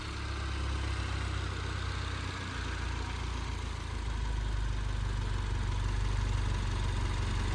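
A 2022 Subaru WRX engine idles with a steady, even low rumble and hum that holds unchanged throughout, close and fairly loud, with no one talking.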